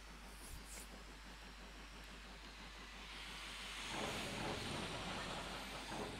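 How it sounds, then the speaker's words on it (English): A train approaches on a branch line, a low rumble and hiss that grows louder and rougher toward the end, steady and moderately distant with no voices. "No, because there's a train coming in."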